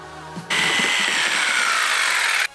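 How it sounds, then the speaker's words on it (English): A power tool cuts through a plastic drain pipe to shorten it, a loud, steady whine that starts abruptly, holds for about two seconds and stops sharply. "we are going to start off shortening 2 drain pipes at around 55 centimeters."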